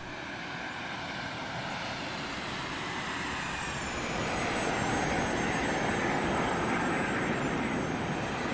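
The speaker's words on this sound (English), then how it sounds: "we can just continue to taxi to our ramp" A Boeing 737-300 in the X-Plane 11 flight simulator taxis to the ramp, its jet engines giving a steady, continuous broadband roar that swells slightly louder midway through, with no voices.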